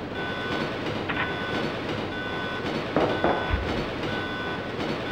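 Train rumble and rail clatter in the Nintendo 64 game Resident Evil 2, a steady continuous roll with faint tonal hums and a brief louder knock partway through, no voices.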